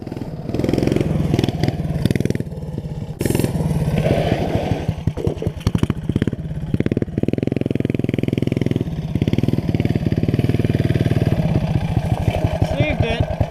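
Small mini bike engine revving hard during wheelies, a buzzy high-pitched motor rising and falling in repeated bursts with putters and idle dips, close to the listener, with some talk mixed in.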